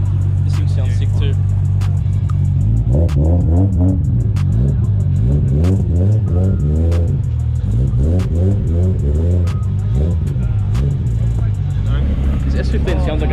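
A Nissan GT-R engine rated above 1000 horsepower, at a racing shop open day, revs hard several times in quick bursts with a loud, close, deep roar that climbs and falls. Voices murmur underneath.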